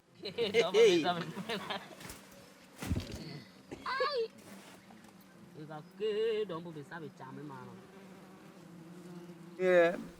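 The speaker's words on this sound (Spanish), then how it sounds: "puedo escuchar el zumbido de las abejas" Bees buzz in a Cameroonian forest with a steady, droning hum that runs throughout, sometimes swelling as insects pass near, while people talk quietly in the background.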